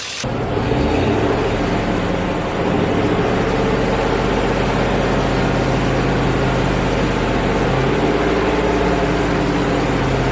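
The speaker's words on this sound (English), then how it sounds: "have the motor running, and I'm gonna go ahead and give it some revs" A car engine runs steadily and loudly nearby with a deep, throbbing drone, its pitch shifting slightly as it is revved while fuel injector cleaner is sprayed.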